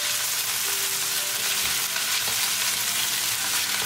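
Pork meat frying with softened onions in a pan on the gas, a loud continuous sizzle with occasional stirring scrapes underneath, no talking.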